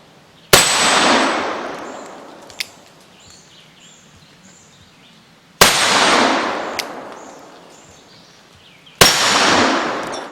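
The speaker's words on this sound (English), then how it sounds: "this 4-inch steel plate bang and clang target to give me something that makes a little more noise than the spinning plates" Bullets strike a 4-inch steel plate target outdoors, giving three sharp gunshot cracks spaced a few seconds apart, each followed by a ringing metallic clang that decays slowly, with faint birdsong between.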